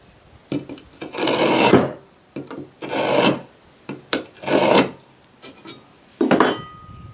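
Rough rasping strokes of a chisel scoring fire brick, four long scrapes with short pauses and a final brief one, close and fairly loud.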